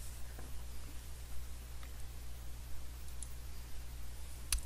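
A few faint, separate clicks from a computer mouse, spaced a second or so apart, sit over a steady low electrical hum in a quiet room.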